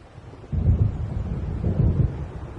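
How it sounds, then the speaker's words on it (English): Thunder from an approaching storm in the video game Alan Wake Remastered, two deep rolling rumbles swelling after a quiet start, with faint wind beneath. "It seems there's a storm coming."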